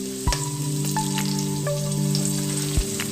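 Garlic frying in heated oil for Cantonese-style bok choy, a steady close sizzle with a few soft crackles and pops scattered through it.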